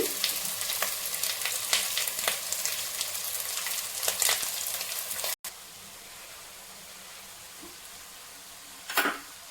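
Baby corn fried rice made with cooked basmati rice sizzles steadily in a frying pan while a spoon stirs and scrapes it. The sizzle drops off sharply midway and then continues more quietly, with one last scrape near the end.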